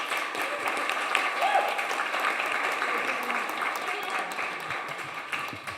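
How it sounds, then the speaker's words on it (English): Audience applause at a magazine issue premiere event, a steady wash of many hands clapping that holds evenly for several seconds with crowd murmur underneath. "Can we do another round of applause?"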